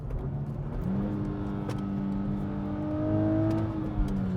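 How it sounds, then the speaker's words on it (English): A 2023 Nissan Z engine blips and climbs through automatic rev-matched downshifts from fourth to third, its loud, close tone rising and swelling over a steady drone, with no talk. "clutch in 4th, 3rd, automatic rev match downshifts"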